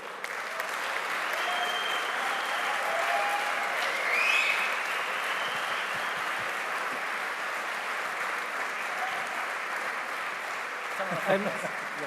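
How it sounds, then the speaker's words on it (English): Applause at a Yamaha MotoGP press premiere for riders Jorge Lorenzo and Valentino Rossi, a continuous, fairly distant wash of clapping from the crowd, with a few faint voices and a brief noise near the end. "Let's have a big round of applause."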